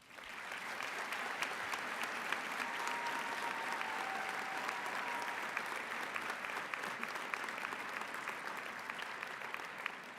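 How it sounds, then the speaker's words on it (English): A graduation audience applauds the parents and family members, with continuous, even clapping that holds steady throughout. It sounds somewhat distant and modest in level, and a faint tone drifts briefly through the middle. "I'd like to begin with a round of applause for the parents and family members that helped you get here."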